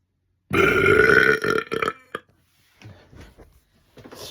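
Loud, long deliberate burp produced on command, followed by a couple of shorter rough belches and faint breathy noises trailing off; close-up and unaccompanied by speech.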